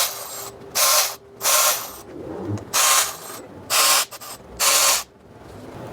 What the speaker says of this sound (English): I'm just gonna run them down with my little electric ratchet